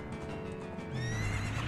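A horse in a Zelda video game gives a loud whinny over the even clip-clop of galloping hooves. The neigh rises clearly in the second half of the short burst.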